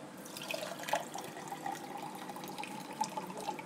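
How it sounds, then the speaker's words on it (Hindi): Ice-cold water pours steadily into a glass for a mango and apple milkshake, a close, continuous trickling splash with no talking. "मैं बर्फ़ का फुल ठंडा पानी डालूँगा"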